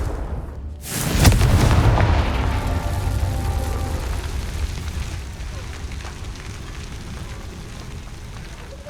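Confringo fire blast spell in Hogwarts Legacy, a sudden booming impact followed by a long rumbling, crackling decay that fades slowly amid game sounds.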